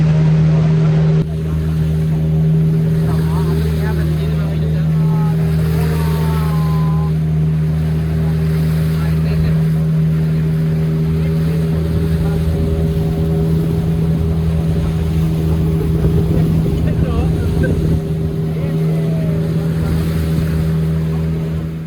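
A motorboat on a Madu Ganga river safari: a loud steady engine drone with a strong low hum runs throughout, with water wash and wind noise, close and continuous.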